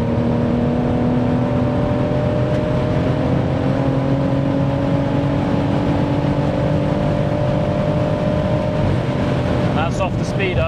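A tuned 730 bhp BMW M140i pulls hard in sixth gear at very high speed, its engine drone rising steadily and loud from inside the car amid heavy wind and road roar.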